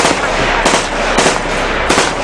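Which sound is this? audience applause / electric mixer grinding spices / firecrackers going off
firecrackers going off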